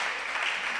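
An audience at a church gathering applauds to welcome pastor Denis, a dense, steady wash of clapping heard close and continuous for under a second.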